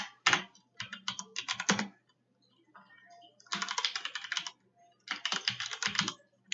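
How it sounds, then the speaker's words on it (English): Bursts of quick clicking keystrokes from code being typed on a computer keyboard, close and fairly quiet, in three separate runs with short pauses between them. "So now I'm going to go ahead and type that out"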